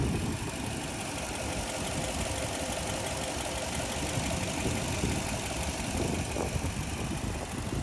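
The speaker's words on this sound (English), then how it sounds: "It does have a 2UZ engine, and like I said, you can hear everything is running well." A 2004 Toyota Land Cruiser with a 2UZ engine idling steadily, a smooth even mechanical hum heard up close in the engine bay with no talking over it.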